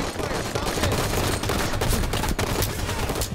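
Rapid automatic gunfire rattles in the video game Halo 5, a dense fusillade of shots that keeps up loud and steady throughout.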